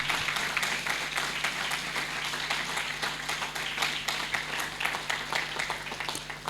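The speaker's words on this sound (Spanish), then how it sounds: "Denle un aplauso al Señor." A church congregation applauding during a baptism service, a continuous dense crowd clapping with many overlapping hands, steady and fairly loud throughout.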